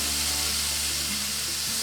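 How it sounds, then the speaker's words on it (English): Bacon frying in a pan over medium heat gives a constant, close sizzle and crackle, bright and hissy, heard alone. "and bacon goes in,"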